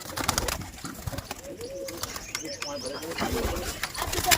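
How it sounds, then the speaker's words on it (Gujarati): Pigeons coo in low, rolling murmurs, repeated through the stretch, with some chatter and background voices mixed in nearby. "તો મિત્રો તમે આ કબૂતર જોઈ શકો છો બધા"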